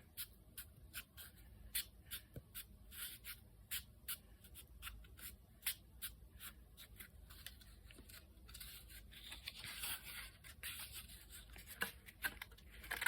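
Paper is folded for a concertina sketchbook, with faint, close crinkles and soft creasing scrapes repeating through a quiet stretch and no talking.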